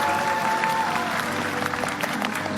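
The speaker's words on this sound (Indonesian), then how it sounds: "Saya minta tepuk tangan yang paling meriah ya." Audience applause for a contestant named Charlie at a televised singing show featuring lookalike performers, a steady dense clatter of clapping throughout, with faint talk beneath.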